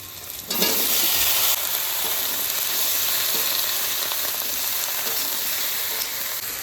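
Eggplant pieces drop into a hot pan and set off a sudden loud sizzle, which settles into steady, close frying that carries on to the end without talk.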